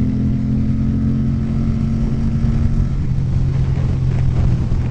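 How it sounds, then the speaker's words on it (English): A steady motorcycle engine drone fills the clip, with engine and wind rumble from a ride near Valle Grande in Valles Caldera on a Ducati 900SS, where passing sport bikes could be blended in. There is no clear separate pass-by. "A lot of sport bikes up here."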